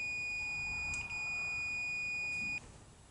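A multimeter sounds a steady, high-pitched continuity beep held for about two and a half seconds, close and clear, then stops, while checking wiring for ground in an OBS Ford Powerstroke truck interior.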